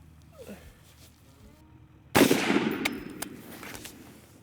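A single loud rifle shot at an outdoor range, fired from a rifle with an ATN Thor 4 thermal scope, cracks sharply and rings out with a decaying echo after a quiet lead-in.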